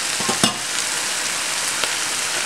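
Corn frying in a pan and stirred, a constant close sizzle with a few sharp scraping clicks early on and one more later.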